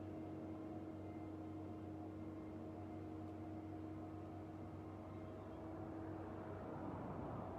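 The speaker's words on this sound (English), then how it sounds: "The farmers are out in the field, so you can probably hear the tractor." A distant tractor working a farm field, heard as a steady low engine drone that hums evenly and continuously throughout, faint and far off with no talking over it.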